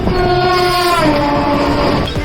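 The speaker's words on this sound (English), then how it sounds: "our train has started" An Indian Railway passenger train pulls away on the Mumbai to Kerala run, a loud steady horn blast with harmonic tones sliding slightly downward over rumbling wheels and carriage noise, ending as the horn fades after about two seconds.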